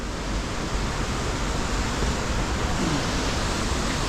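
Water rushing steadily inside a forest cave near a waterfall, a loud, even wash of noise filling the space without pause, with faint voices barely present.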